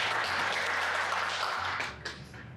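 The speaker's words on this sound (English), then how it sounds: "let's give a round of applause for our students, our honor students who are being inducted tonight." Applause from an audience at an evening induction ceremony for honor students, a broad steady wash of clapping that thins and fades toward the end.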